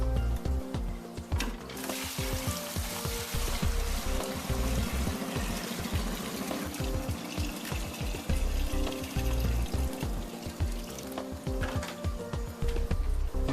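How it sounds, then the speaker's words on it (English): Dirty water from an Aquatop CF500UV aquarium canister filter body poured into an empty 5-gallon bucket, a steady close splashing pour with gurgling trickles running throughout, no talking. "it's best to dump out the dirty water into an empty 5-gallon bucket"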